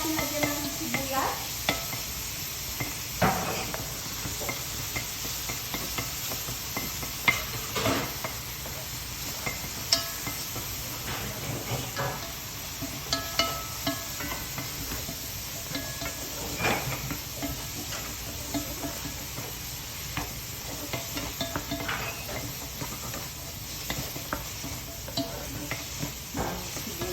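Onions sautéing in a pan for lasagna, a continuous frying hiss broken by frequent stirring scrapes and spatula knocks on the pan, close and busy throughout.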